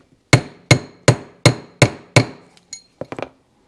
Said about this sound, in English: I think it's close enough that it should drive on with a plastic hammer